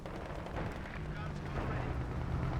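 An artillery barrage in the video game Company of Heroes 2 rumbles as a dense wash of booming blasts and crackling gunfire, with a voice talking over the constant battle noise.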